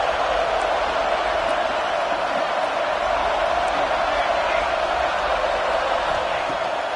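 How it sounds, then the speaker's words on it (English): Stadium crowd in the College Football 26 video game during a goal-to-go play: a steady, dense roar of cheering that stays loud and even throughout. "This defense needing this energy from the crowd in a goal-to-go situation."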